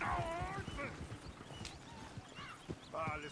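Horse hooves clip-clop steadily in Red Dead Redemption 2, mixed with a whinny and game sounds under people talking.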